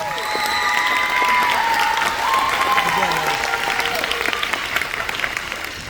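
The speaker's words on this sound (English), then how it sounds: "One more round of applause for Maddie." Sustained applause from an audience at a school sports awards ceremony for a graduating athlete, steady clapping with some cheering and crowd voices, filling the room throughout.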